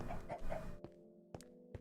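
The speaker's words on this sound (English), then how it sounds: "you'll see I've got some chickens on the go in there" A few short clucks from chickens in Minecraft's Blightfall modpack, a quick cluster of calls followed by two isolated sharp clucks, faint and close with quiet gaps between.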